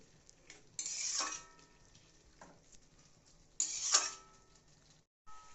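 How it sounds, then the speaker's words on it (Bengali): A spoon scrapes through fried potatoes and chopped bottle gourd in a metal pan, two bursts of stirring with soft clinks and faint sizzling in between, with no one talking. "ভেজে রাখা আলুগুলো দিয়ে দিয়েছি দিয়ে একটু নেড়ে ছেড়ে"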